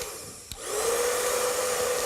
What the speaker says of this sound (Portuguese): Olha o secador aqui, Maurício.